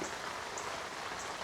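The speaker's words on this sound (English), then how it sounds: "And the rain has begun." Rain falling on a survival shelter, a dense, even hiss of drops pattering on the surface, steady and close throughout with no talking.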